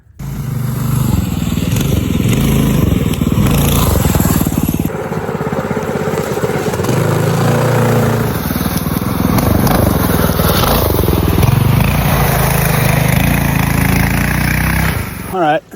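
A modified minibike with a newly installed 224 engine revs and labors loudly along dense Pacific Northwest mountain trails, its engine note rising and falling close by, with voices talking over it.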